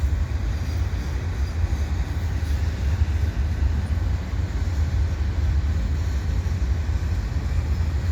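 An eastbound CN freight train passes on lower-level tracks at Dorval, its low rumble and rolling rail noise sustained and fairly close throughout, with no one speaking.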